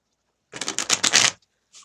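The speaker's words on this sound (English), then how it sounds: "I just want to give this a little bit of a shuffle" A deck of tarot cards being shuffled by hand, a quick burst of riffling card flutters close up for under a second, followed by a brief soft card sound.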